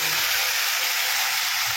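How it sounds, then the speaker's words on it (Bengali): Marinated meat with onions sizzling in hot oil, a loud steady hiss of frying throughout the short moment with no voices. "এটাকে শুধু ঘপাট করে এখানে তেলের মধ্যে দিয়ে দেবো।"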